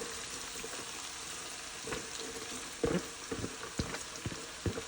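Half a head of chopped cabbage hits hot fat in a pot with sausage, giving a steady close sizzle with a few sharper crackles and scrapes from the pot.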